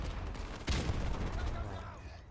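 Gunfire in Call of Duty remastered, a loud burst of shots followed by rumbling echoes and lingering noise, with a voice present in the background.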